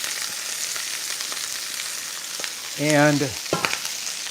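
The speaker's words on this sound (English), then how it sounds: "I'm hearing a lot of really good sizzling now." Corn sizzling in a cast iron pan, a steady dense hiss throughout with brief louder bursts near the end and a single spoken word.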